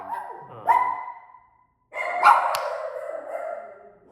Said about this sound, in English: And the dogs are going crazy